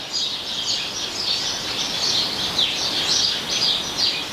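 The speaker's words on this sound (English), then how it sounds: "the sound of the birds out there is amazing" Garden birds sing in a continuous bright chorus of overlapping chirps and tweets outdoors at dusk, steady and moderately loud, with no voices.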